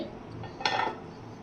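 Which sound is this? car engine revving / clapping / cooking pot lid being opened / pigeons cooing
cooking pot lid being opened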